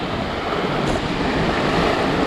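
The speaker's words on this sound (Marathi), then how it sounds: "पाणी एवढं खळखळतं आहे ना की भयानक म्हणजे मी सांगू शकत नाही" Rough sea at Malvan on the Konkan coast, churning steadily in strong wind, a loud continuous roar of surf mixed with wind buffeting the microphone, with no voices.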